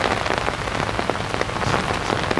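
Rain falls steadily on leaves and ground along a wooded rail corridor in Singapore, a dense, even patter heard close, with no voices.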